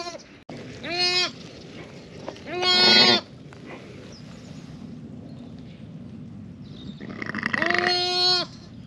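Sheep of a hardy, low-input breed bleat on a farm: three loud, drawn-out calls spaced a few seconds apart over quiet outdoor background.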